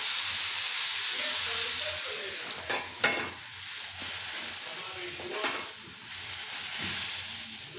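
Salted water sizzling and hissing on a hot dosa tawa, a fairly quiet crackling hiss with a few sharp bursts, and a voice speaking faintly in the background.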